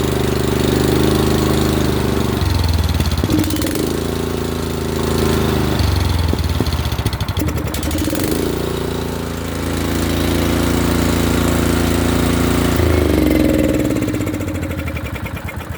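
A Honda snowblower engine roars loud and close while its throttle is worked. The revs rise and fall several times, with dips near 2.5, 6, 9 and 13 seconds before the engine climbs back to a steady drone.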